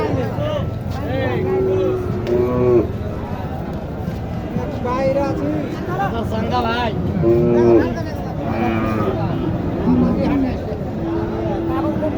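Cattle at a busy rural cattle market, with Sahiwal and Friesian heifers on sale, lowing at intervals under constant nearby talk and crowd babble.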